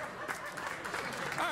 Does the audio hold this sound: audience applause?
yes